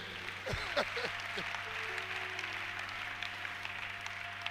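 A church congregation applauds and acclaims Jesus during a worship service: a steady, dense wash of clapping and cheering that fills the whole moment, with a low sustained tone running underneath.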